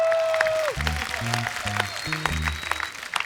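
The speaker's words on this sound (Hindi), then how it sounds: "इनके लिए जोरदार तालियां।" Studio audience applause on a Hindi comedy TV show, a moderate clapping wash under talking and a musical sting at the start.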